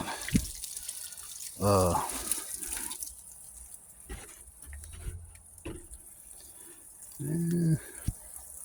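Water poured onto an outdoor compost pile trickles and splashes unevenly, with a few brief vocal sounds in between.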